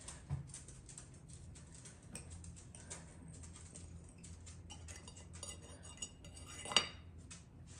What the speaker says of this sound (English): So, I'm going to slice it.